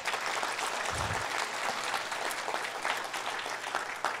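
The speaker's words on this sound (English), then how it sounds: "Let's give them a hand of applause" Audience applause at a lecture, steady dense clapping throughout, moderately distant and soft, with a brief low thump near the start.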